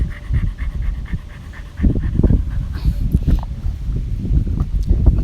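A Boston Terrier pants rapidly and steadily close by during outdoor play, its quick breathy puffs running throughout.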